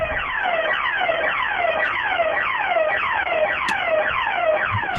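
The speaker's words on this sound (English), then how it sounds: "There goes the alarm system in Atlanta." An alarm system in Atlanta wails continuously with a repeating, rapidly rising and falling electronic siren, loud and close, cycling steadily the whole time with no voices over it.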